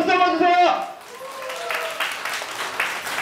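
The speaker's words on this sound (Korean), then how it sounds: "자, 다시 한번 뒤에 분들 박수 한번 주세요." Guests clapping at a Korean first-birthday party, a broad wash of applause that swells after a host's voice and continues steadily, with scattered hands standing out.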